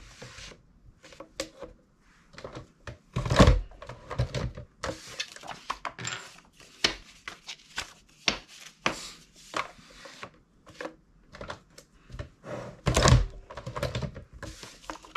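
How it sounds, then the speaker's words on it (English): Stacks of paper being punched through by hand with a hole punch while making 3-ring notebooks: a long run of close, irregular clacks and thunks with a few heavier hits. "You'll just need to manually punch through your stacks of paper."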